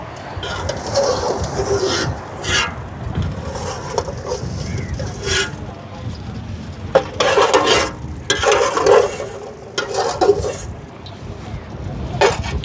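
Dried nagarai karuvadu fish crackling in hot oil while pieces are scraped and lifted out, a continuous close sizzle broken by louder bursts of stirring and clattering.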